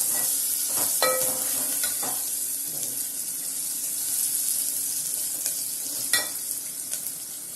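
Onions sautéing with a spoonful of salt in a pan for vendhaya kuzhambu, a Tamil fenugreek curry, give a steady soft sizzle with scattered stirring scrapes and clinks, close up and with no talking.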